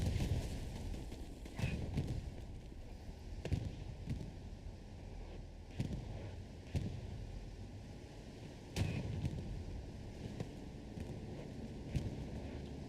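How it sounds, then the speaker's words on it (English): Bombing-run explosions in the video game Hell Let Loose land as repeated deep booming thuds at irregular intervals, distant and heavy over a steady low rumble. "Bombing run gonna drop in here."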